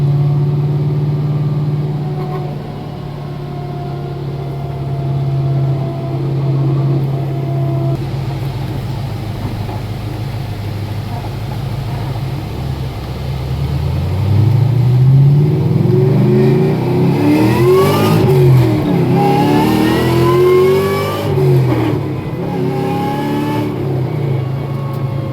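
Supercharged S197 Ford Mustang GT accelerating hard from inside, its engine note climbing steadily through the gears with rising revs and a loud, sustained drone, no talk.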